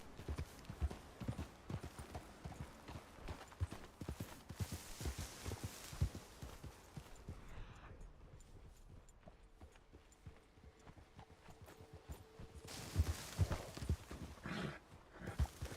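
Horse hooves clip-clop in a video game as riders circle, a rhythmic, fairly close series of hoofbeats that pauses briefly midway before resuming.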